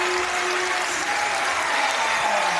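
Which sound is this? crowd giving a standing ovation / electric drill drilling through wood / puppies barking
crowd giving a standing ovation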